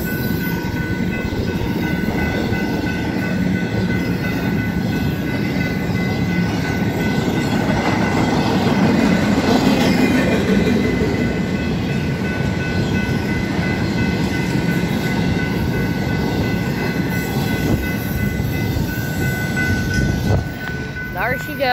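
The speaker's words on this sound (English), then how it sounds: "that was probably the longest train I've ever seen" A long freight train rumbles past nearby in Kingman, Arizona, a steady heavy roar of rolling wagons with faint clattering and a brief screech near the end, sustained throughout.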